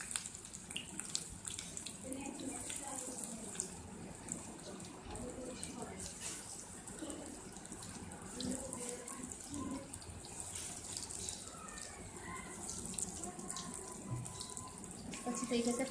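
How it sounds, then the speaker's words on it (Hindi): Green onion pakoras frying in hot oil, a continuous crackling sizzle with scattered pops, fairly quiet, with a voice speaking intermittently over it. "इसको हम सारों को अच्छी तरीके से गोल्डन सा फ्राई करेंगे।"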